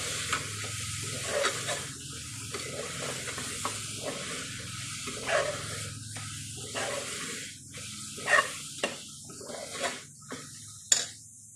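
Ginger garlic paste being stirred and fried in a pan for Thalassery chicken biriyani, a steady soft sizzle with intermittent scraping strokes from a spoon, close and moderately quiet, no talking.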